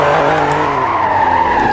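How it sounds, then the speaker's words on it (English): A 2021 Alfa Romeo Giulia Quadrifoglio drifts with loud, sustained tire squeal over a rumbling engine, close and continuous for under two seconds, with no talk. "Let's test the drift."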